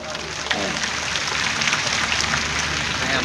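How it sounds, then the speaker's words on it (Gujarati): A crowd at a Thakor community gathering breaks into dense, sustained applause that stays loud and even throughout with no pause. "એકવાર જોરદાર તાળીઓ પાડીને સમર્થન આપો"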